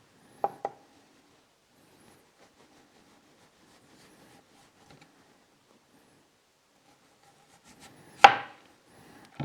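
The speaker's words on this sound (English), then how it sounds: "We'll cut a straight slice first." A knife cutting kohlrabi on a wooden board, a couple of soft knocks at the start, a long quiet stretch, then one crisp loud chop as the blade hits the board.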